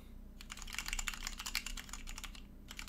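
Rapid keystrokes clatter on an OLKB Planck V6 40% keyboard with Cherry MX Red switches and XDA Canvas keycaps. Dense, irregular clicks come close and quiet, with a brief pause near the end.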